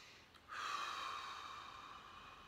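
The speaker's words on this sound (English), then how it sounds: "Take a deep breath." A single deep inhale during an EFT tapping session, a long breathy rush of air starting abruptly and sustained for about two seconds, close and soft, no speech.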